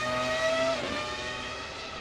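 A Ferrari Formula 1 car engine in the racing game Assetto Corsa EVO screams at high revs, its sustained whine dropping in pitch partway through as it shifts, loud and close with no talk.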